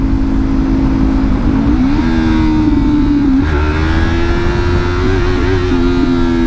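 A small beginner motorcycle engine revs continuously and up close, its pitch rising and dipping in a few gentle swells over a loud, steady mechanical drone.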